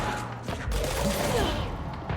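Hostile firemen open fire in the game Control, with a rattling burst of gunfire and thudding impacts close by, over low game ambience.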